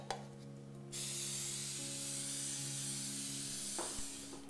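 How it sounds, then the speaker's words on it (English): A continuous hiss of nonstick cooking spray from an aerosol can onto a loaf pan lasts about three seconds, close up, with a low background hum and a couple of light clicks. "We're gonna spray it with nonstick spray."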